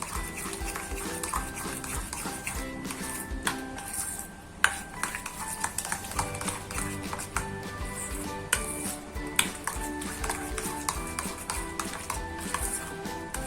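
A spoon stirs rava appam batter in a bowl, scraping and clinking against the sides in a steady, uneven rhythm, close up and fairly soft.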